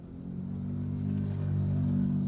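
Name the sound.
motorcycle with loud exhaust heard inside soundproofed car cabin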